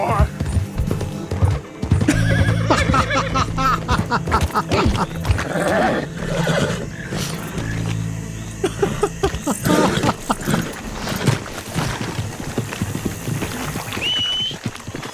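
Video game horse neighing and hooves clip-clopping: a loud whinny and rapid hoofbeats come up close early, then hoof clatter and scattered effects continue under someone talking through most of the clip.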